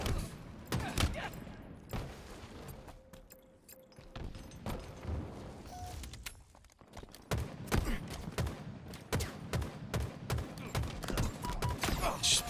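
Rapid bursts of gunfire fill a Halo scrim match, sharp repeated shots and booms crackling through the whole stretch, with in-game announcer and player voices occasionally heard.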